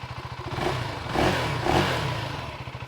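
A 2025 KTM 390 Enduro R single-cylinder motorcycle idles close by with a steady rapid thump, and the engine swells briefly twice in the middle before it settles back to idle.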